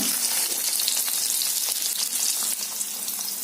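Paneer fries in hot oil until golden brown, a dense, bright, continuous sizzle heard close up and alone, with faint crackles throughout.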